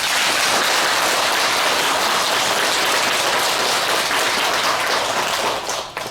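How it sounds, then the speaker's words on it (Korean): Sustained audience applause at a Buddhist dharma talk by a monk, dense steady clapping filling the hall for about six seconds before thinning slightly at the end. "최치원 선생님께 박수를 한번 드립니다"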